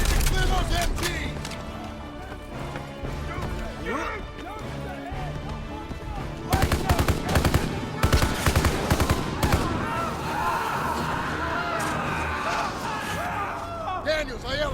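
Machine gun fire in a Call of Duty: WWII battle, rattling in rapid bursts over a dense mix of explosions, music and shouted voices that talk throughout.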